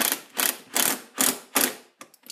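Impact driver sinking inch screws into wood for a candle holder, five loud rhythmic ratcheting bursts close by, then a few short quieter taps at the end.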